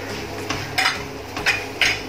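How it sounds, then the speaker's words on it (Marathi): A spoon knocks and scrapes repeatedly against a pan as sugar is stirred into roasting semolina for sheera, several bright metallic clinks at an uneven rhythm, close and clear with no talking. "मस्त मोकळा झालाय, तर आपण साखर घालूया।"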